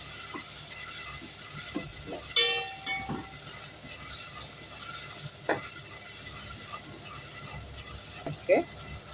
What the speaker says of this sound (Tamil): தக்காளி வந்து ஒரு ஒன்றரை தக்காளி இது நல்லா வதங்கட்டும்